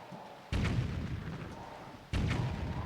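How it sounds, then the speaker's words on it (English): A cannon in Wind Waker HD fires twice at a castle's front gate, each a sudden deep boom with a rumbling tail, roughly a second and a half apart, loud and close. "Here's the front gate, so we gotta use our cannon and blast it open."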